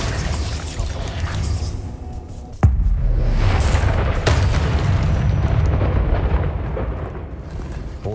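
A Bombarda spell erupts in a Harry Potter video game, a sudden heavy boom cutting through a dense low rumble of game ambience, followed by a second sharp crack and a long roaring tail of debris.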